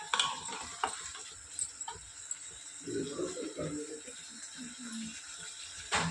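Tomatoes with salt and turmeric being stirred in a frying pan, giving a soft sizzle with scraping and clicking strokes of the spoon throughout, close by; a voice speaks over part of it.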